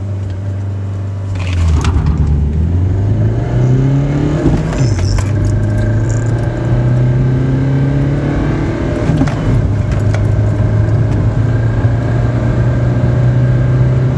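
A Renault Modus accelerates hard from a standstill to 100 km/h, its engine droning loudly from inside the cabin as revs climb and drop through several gear changes, with no talking.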